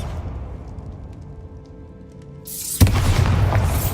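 A spell effect from a Harry Potter game: a sudden deep boom bursts out of a low rumble and leaves a loud, crackling roar that keeps going.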